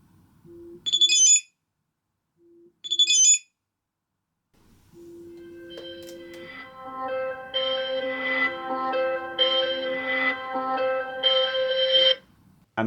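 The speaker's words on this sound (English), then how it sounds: "you can change the notification and ring sound throughout the system or for each individual application." Several electronic phone tones from a Samsung Galaxy Z Fold 6 play one after another: two short chiming notification beeps, then a longer melodic ringtone, clear and close.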